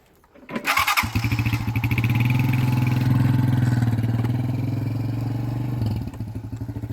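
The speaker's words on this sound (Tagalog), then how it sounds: "Ayun, ayun naman yung motor natin." A motorcycle engine starts with a sharp burst and then settles into a steady, rhythmic, chugging idle close by for several seconds, with no speech.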